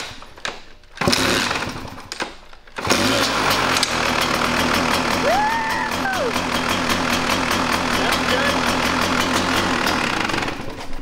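A dirt bike engine that has run poorly for years catches after a few rough attempts, then keeps running on choke with a loud, buzzing, steady two-stroke-like drone, while people talk nearby.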